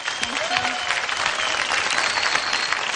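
A television dance show audience applauds, dense and steady clapping throughout, with a voice briefly heard over it.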